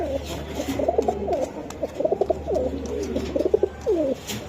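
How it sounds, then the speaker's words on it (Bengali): A male blue bar pigeon coos close by in a repeated series of soft, throaty rolling calls, with short pauses between bursts and a low hum of background noise. "খুবই সুন্দর একটা কবুতর আসলে অনেক বুলোবার বুলোবার ভাই হ্যাঁ ব্লুবার নর নর এটা এই যে নর ব্লুবার"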